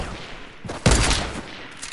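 A video game shotgun fires one sharp, loud blast that is followed by a short rumbling decay, with quieter crackling before it.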